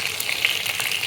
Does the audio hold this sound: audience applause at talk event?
no